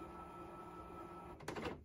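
A DTF printer powers down: a low, steady hum runs quietly, then a short burst of mechanical whir and clatter rises briefly before the sound fades out.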